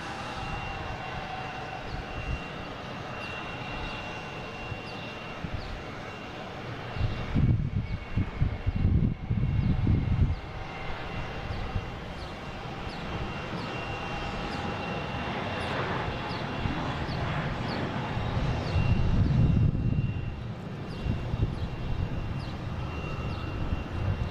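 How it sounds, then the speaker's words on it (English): A JetBlue Airbus A321 departs Boston Logan International Airport with a steady jet engine roar that swells and fades. The sound is sustained and moderately loud, with no talk. "Got a JetBlue heading to Orlando, an A321."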